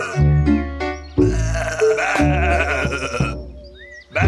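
A cartoon sheep bleats in a series of loud, drawn-out harmonic calls close by, several overlapping bleats with short breaks between them.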